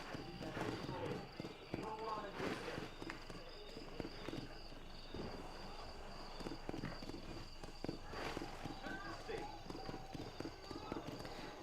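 Horse hooves clip-clop along with footsteps in the Western open-world game Red Dead Redemption, a busy, steady patter of steps heard throughout under someone talking.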